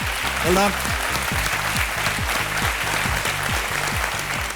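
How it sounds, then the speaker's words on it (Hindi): Studio audience applause on the KBC game show after a correct answer, a dense wash of clapping over a repeating rhythmic musical sting, steady and fairly loud throughout. "तालियां पहले बज गई"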